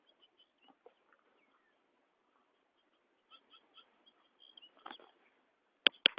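A wild bird, one of a flock, squawks while swooping at a person's head; faint scattered calls build into sharper, louder squawks near the end.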